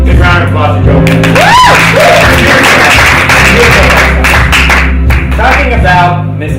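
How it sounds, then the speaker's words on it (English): Studio audience at a comedy talk show giving a round of applause, loud sustained clapping with some cheers and whoops, under a host's voice and background music. "Good round of applause to Joakim."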